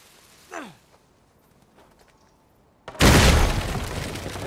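A faint sigh-like sound, then quiet, followed by a sudden loud dynamite blast in Uncharted 4 that bursts out and rumbles on with debris-like noise.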